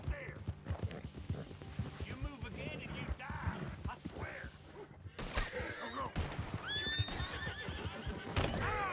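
A horse neighs and whinnies repeatedly over clattering hooves and mechanical clicks in a Red Dead Redemption 2 gameplay scene, with someone speaking French throughout.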